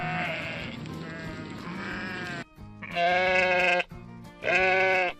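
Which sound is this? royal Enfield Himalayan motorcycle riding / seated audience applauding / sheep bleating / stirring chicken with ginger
sheep bleating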